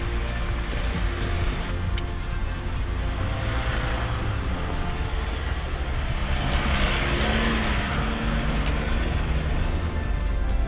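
A Ford Everest SUV on an off-road hill climb makes a steady, loud engine drone with broadband rumble and rushing noise throughout, unbroken and close, with no talking.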